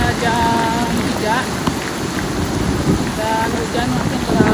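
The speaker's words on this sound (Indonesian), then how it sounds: "Dan hujan makin keras." Heavy rain pours on a mountain hiking trail along the Tour du Mont Blanc, a steady dense hiss mixed with wind buffeting the microphone, while faint whistling tones come and go.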